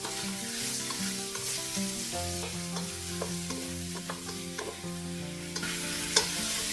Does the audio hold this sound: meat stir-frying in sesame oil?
yes